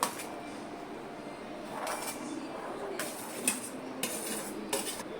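A spoon clinks against a bowl as fruit custard with mango, banana, pomegranate and apple is mixed. The sharp metallic taps are scattered and moderately close over a soft, steady background.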